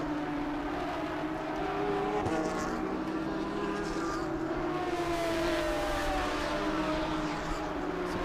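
Race cars at speed on the Road Atlanta track during an International GT sprint race, engines droning and whining steadily as they pass at a distance, a continuous mechanical roar with shifting pitch.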